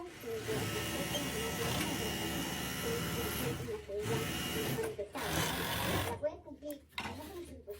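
Sewing machine stitching along the lengthwise edge of tucked fabric for a scrunchie, a steady buzzing whir running for several seconds, then short stop-start bursts.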